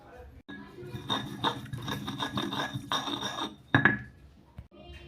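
Garlic and shallots ground into a spice paste, with rhythmic scraping and rubbing strokes and occasional clinks of a utensil against a bowl, fairly close, under a voice speaking at times.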